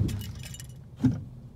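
A car's brakes make a single loud clunk as the brake pedal is released, heard up close after a brief metallic rattle, with no talking.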